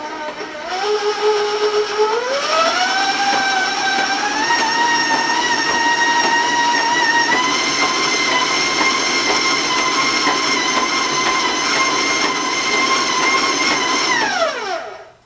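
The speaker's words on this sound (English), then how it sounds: "I'm going to turn up my mixer again, so give me a heads up on the noise." An electric stand mixer's motor whine spins up over the first couple of seconds, then holds a steady, loud electric hum until it cuts off near the end.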